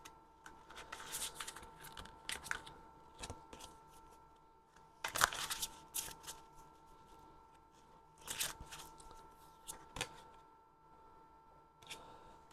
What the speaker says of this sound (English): this card I've just pulled out kind of fell out the pack as I was shuffling